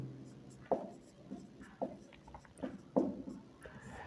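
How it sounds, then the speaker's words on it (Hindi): Pencil or pen writing on paper during a Class 6 maths lesson on perimeter and area, heard as a few faint, separate scratching strokes spread out over a quiet room. "तो लिखते हैं भाग 2 के लिए।"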